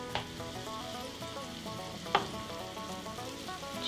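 Seasoned onions frying in oil for crispy fried onions, a steady close sizzle with a few sharper crackles and pops, heard alone without any talking.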